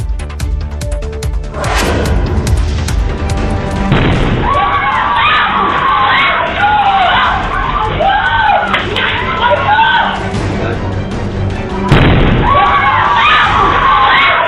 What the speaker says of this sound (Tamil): மின்கசிவு காரணமாக சிலிண்டர் வெடித்ததில் காதை பிளக்கும் அளவிற்கு கேட்டு சத்தம் அனைவரையும் உரைய வைத்தது